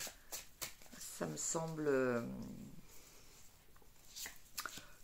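Tarot cards are shuffled and handled, giving quick papery flicks and slides close by, with someone speaking French over the card sounds.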